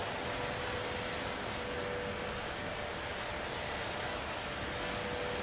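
An airplane comes in to land in a flight simulator game, carrying a steady, fairly quiet roar of engine and rushing air that holds evenly the whole time, with no talking.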